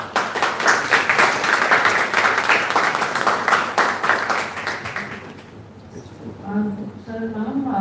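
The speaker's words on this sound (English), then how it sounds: "Let's once again acknowledge them with a warm and respectful round of applause." Warm round of applause at an engineering college conference session, a dense steady crowd clapping that fades out after about five seconds, followed by a voice speaking.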